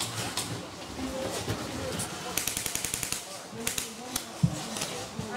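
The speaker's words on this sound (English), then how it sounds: "Now I'm shooting downhill" Airsoft sniper rifle fired downhill during a castle-defence game, with a rapid run of sharp snapping shots in the middle, scattered single cracks around it, and someone talking over the action.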